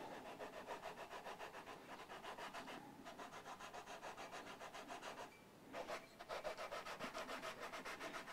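Steady back-and-forth rubbing of a leveling file or sanding beam over the frets of a Jet JS 400 electric guitar, a close, rhythmic rasp that pauses briefly and then resumes.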